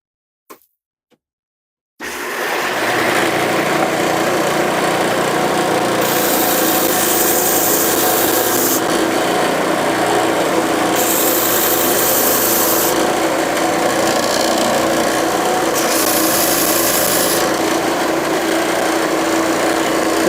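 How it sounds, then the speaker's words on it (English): A shop-built belt edge sander with a 9 ft belt hums steadily after a brief pause, a continuous whirring drone with faint scraping grit, holding even loudness throughout. "As I was sanding, the dust was going around the roller and coming out the dust port"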